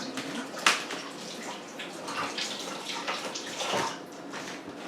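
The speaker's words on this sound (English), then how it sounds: "Time to wash hands and table." Hands being washed under running water from a tap after handling raw meat while making Asian-style dumplings, a steady close splashing stream with a few louder splashes, no talking.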